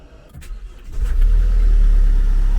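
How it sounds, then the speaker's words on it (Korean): A car engine cranks briefly, then catches and settles into a loud, steady idle rumble, heard close and alone. "시동 걸렸고"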